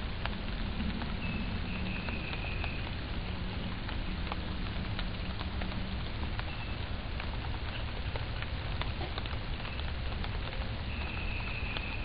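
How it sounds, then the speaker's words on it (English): Light rain sprinkling at night, a steady soft patter of drops on surfaces, faint and continuous with no voices. "It's starting to sprinkle a little bit right now."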